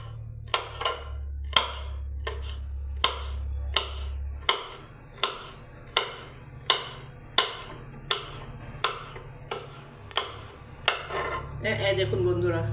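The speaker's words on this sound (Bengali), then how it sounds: "এই দেখুন বন্ধুরা, কাঁচা লঙ্কাটাও কাটা হয়ে গেল আমার।" A knife chops a green chili on a cutting board in a home kitchen, with about sixteen sharp, evenly spaced knocks and a low hum underneath, close and clear.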